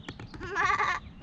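A goat or sheep bleating at a farm, a single wavering close call lasting under a second after a few faint clicks.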